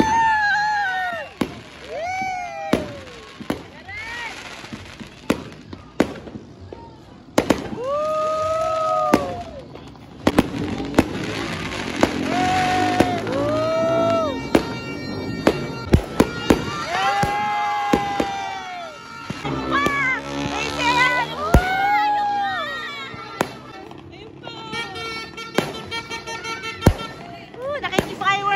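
Repeated bangs and crackling bursts of New Year's fireworks over a lively crowd, with people shouting and talking excitedly throughout.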